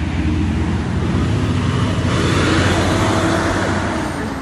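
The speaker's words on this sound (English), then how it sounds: "There's a big truck that went by." A big truck passes close on a road beside a Civil War battlefield, producing a loud, sustained broadband roar of engine and tires that swells slightly midway.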